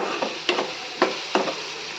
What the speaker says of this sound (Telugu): నీట్గా కలుపుకోవాలి, కొంచెం నాయిస్ వస్తుందండి, పట్టించుకోకండి అదంతా